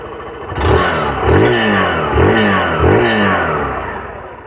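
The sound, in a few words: Hero Glamour 125 motorcycle engine started, exhaust note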